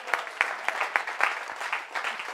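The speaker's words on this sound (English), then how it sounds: "Come on and clap in this place." A church congregation claps in a quick, steady rhythm, a dozen or so crisp claps at a moderate distance, with no talking.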